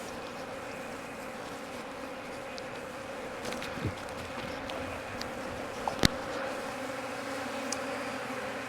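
Honeybees hum and buzz steadily around an open hive during queen grafting, a constant drone with individual bees zipping close past, plus a few faint clicks and knocks from the hive work.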